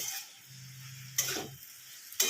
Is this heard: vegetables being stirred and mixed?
yes